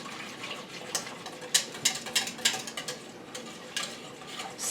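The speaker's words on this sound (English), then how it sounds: "I'm going to give that a slight whisk. Make sure it's blended in nicely." A yogurt mixture being whisked inside an Instant Pot while making homemade yogurt, with a run of light, quick scraping and tapping strokes against the metal pot, fairly close and moderately quiet.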